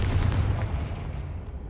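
A Confringo explosion spell goes off in Hogwarts Legacy, a loud, boomy blast with a heavy low rumble that decays across under two seconds.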